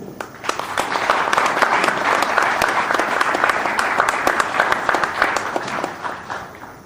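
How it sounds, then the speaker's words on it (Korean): Sustained audience applause fills a press conference hall, steady and dense clapping from many people for several seconds, close and loud, tapering slightly at the end. "여러분 큰 박수로 맞이해 주십시오"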